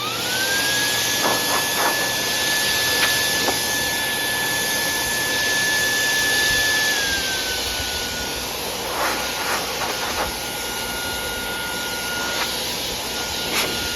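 An Air Force Commander dog blow dryer runs on its louder, more powerful setting, giving a steady loud whine with a high tone that dips partway through while the motor keeps roaring alone.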